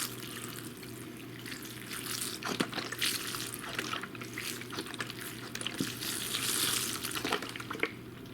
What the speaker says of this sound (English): we'll also put a little bit of chicken stock in here.